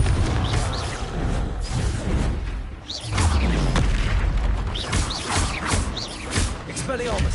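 Blasting spell explosions from a Hogwarts Legacy wizard duel, a series of booming blasts and whooshes in a busy, loud game soundscape, with a voice shouting over the action.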